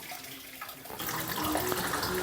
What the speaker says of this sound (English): We got clean water coming out both sides.